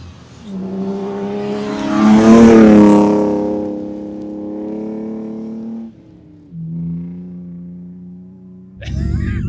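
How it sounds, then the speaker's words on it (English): A rally car being driven in Finland revs hard, its engine note climbing loudly, then easing and dropping through gear changes, close and prominent before a brief pause. "Okay, so we're in Finland driving rally cars."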